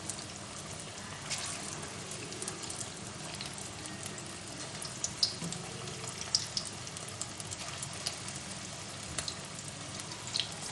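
Marinated fish pieces deep fry in hot oil, a steady dense sizzle and crackle with occasional sharper pops, close and continuous throughout.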